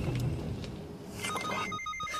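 A mobile phone rings with a warbling electronic tone, fairly faint and partly masked by background noise.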